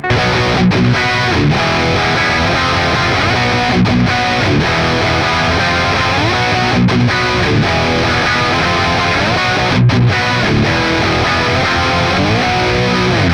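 A heavily distorted electric guitar in drop D chugs through the low, driving opening riff of a song, power chords with brief palm-muted gaps, loud and dense throughout.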